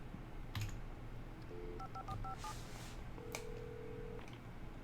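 Telephone dialing in the Alan Wake video game: a short run of electronic keypad tones, then a longer steady tone, over a low background hum with a few soft clicks.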